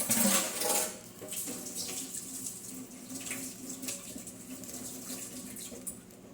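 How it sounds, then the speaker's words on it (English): Tap water runs into a kitchen sink while a spoon is rinsed off, a steady close splash with a louder burst at the start and a few faint clinks, no talking. "I'm going to wash off a spoon real quick."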